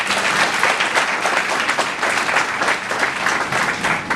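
A crowd of listeners breaks into steady, dense applause at a French-language ceremony announcing companies that provided jobs to young people. The clapping fills the whole stretch at an even loudness, with no voices heard over it.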